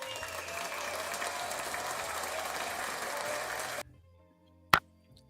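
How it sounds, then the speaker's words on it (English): A campground crowd applauds with dense, steady clapping that stops abruptly, followed by near silence and one sharp knock. "Everybody gets a clap."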